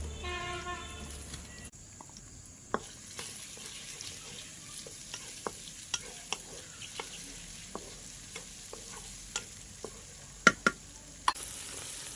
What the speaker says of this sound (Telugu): ఉల్లిపాయలు అయితే వేగాయి అనమాట